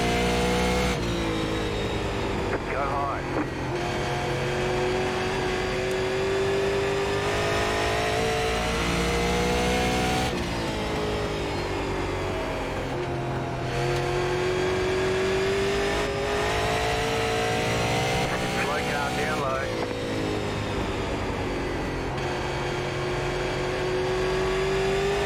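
A super late model race car engine in iRacing at Nashville Fairgrounds Speedway, loud and continuous, revving up and down through laps with repeated rising and falling pitch, close and alone without talk.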